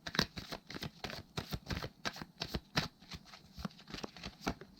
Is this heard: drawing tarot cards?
yes